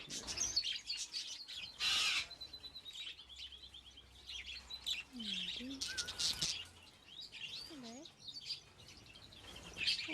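Bright chirping budgerigar calls, several short tweets and warbles scattered through, with a few louder bursts of chatter, fairly close, no voices.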